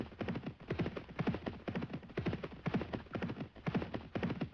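Virtual horse race with hooves clip-clopping in a fast, regular galloping rhythm, fairly quiet and heard alone, with no talk.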